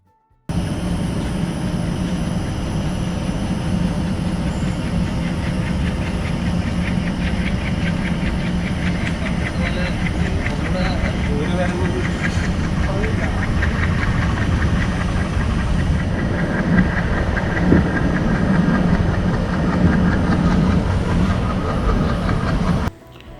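The Rajya Rani Express at Shoranur produces a steady, loud rumble of rolling wagons and running machinery, heard close from inside the train and continuing unbroken for over twenty seconds with no talk.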